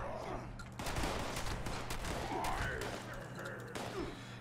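Enemy gunfire crackles through a Fallout 76 firefight in a dense, continuous wash of overlapping shots and impacts with no clean gaps, steady and fairly loud from start to finish.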